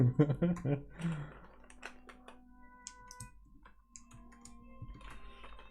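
Scattered clicks of a DC60 mechanical keyboard with Gateron CAP switches in a hollow case after a brief burst of speech at the start, light and uneven, with faint background hum.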